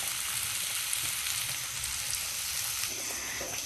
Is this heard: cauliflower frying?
yes